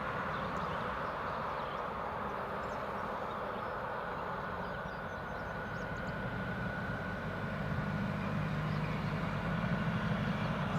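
A passing airliner at Newcastle Airport makes a steady, broad engine roar that holds through the whole stretch and swells slightly near the end, with no voices.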